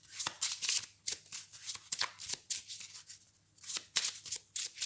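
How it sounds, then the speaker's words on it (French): Thin Lenormand oracle cards are shuffled by hand in repeated quick riffling bursts, crisp papery flutters with short pauses between them, close and fairly quiet, with no talk. "comme les cartes sont assez fines, c'est un petit peu bizarre. Mais bon, ça se mélange plutôt bien"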